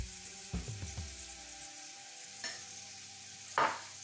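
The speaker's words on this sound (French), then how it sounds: "Je laisse torréfier le cumin un tout petit peu." Cumin seeds toast in a hot pan alongside Espelette pepper and smoked paprika, giving a steady close sizzling hiss broken by a few clattering stirs and scrapes.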